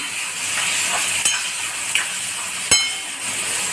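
Moth beans (matki) being stir-fried in a pan with turmeric, red chilli powder and salt: a steady bright sizzle close up, broken by a few sharp clinks of the spoon against the pan.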